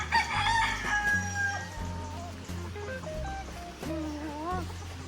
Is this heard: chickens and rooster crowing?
yes